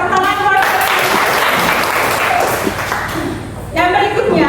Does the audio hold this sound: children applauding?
yes